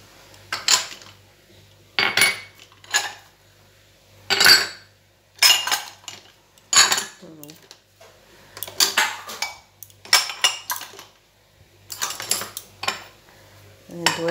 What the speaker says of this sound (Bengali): দইয়ের বাটিগুলো নিয়ে আসি এখান থেকে